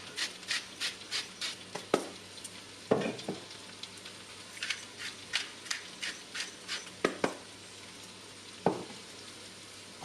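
Butternut squash sizzles softly in a pan, stirred in a regular rhythm of quiet scraping strokes with a few louder knocks, heard close but low in level.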